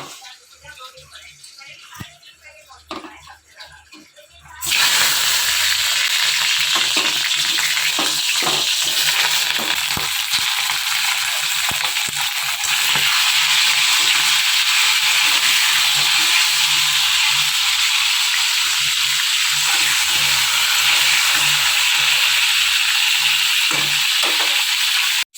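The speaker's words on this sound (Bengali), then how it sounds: "এই যে কড়াইতে তেল দিয়েছি, তেলটা গরম হয়ে গেছে, এখন পটলটা ভালো করে একটু ভেজে নেব" Pointed gourd (potol) pieces frying in hot oil in a kadai, a loud, steady sizzle that bursts in abruptly after a quiet moment and keeps crackling without a break, with faint talking underneath.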